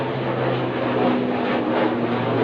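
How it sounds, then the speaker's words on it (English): A very small propeller aircraft passes overhead, a steady droning engine hum holding at moderate loudness throughout. "Here comes a very small aircraft over my head."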